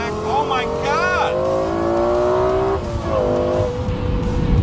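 A Lexus LFA Spyder driven hard on a race track, its engine screaming at high revs with rising and falling gear sweeps, a brief tire squeal, loud and close.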